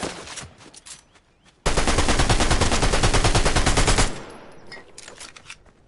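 A loud, sustained burst of rapid automatic gunfire in Fortnite lasts a couple of seconds, its shots evenly spaced, followed by quieter scattered game sounds.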